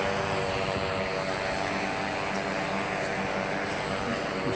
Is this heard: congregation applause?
no